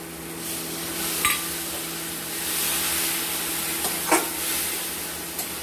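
Fish kofta curry masala sizzles steadily in a pan as it is stirred and fried, a close, even hiss broken by a few sharp scrapes of the spoon.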